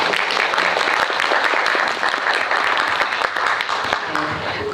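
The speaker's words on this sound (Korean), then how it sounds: "호연을 펼쳐주신 배우분들 박수 한번 다시 부탁드립니다" An audience at a film talk event applauds the actors, with dense, steady clapping throughout that fills the room and stays even in level with no pauses.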